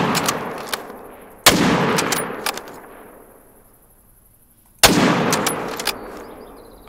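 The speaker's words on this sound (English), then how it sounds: "I'm going to take a shot with the 30-06." Two sharp, loud rifle shots from a .30-06 in theHunter: Call of the Wild, each followed by a long echoing tail that fades, with several seconds between them.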